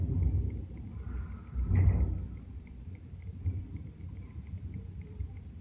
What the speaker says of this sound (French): Il y a de l'orage.